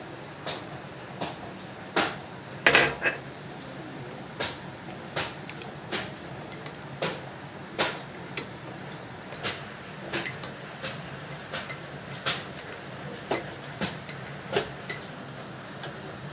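A spoon stirring custard and sugar in a pot, with irregular light clinks and taps of metal against the pot recurring about every second over a quiet background.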